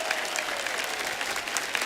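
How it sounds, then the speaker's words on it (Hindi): Sustained audience applause at a stand-up comedy show, a steady, dense wash of clapping throughout, loud and even. "इसके लिए मैं एक बार फिर से आपके लिए तालियां बजाऊंगा"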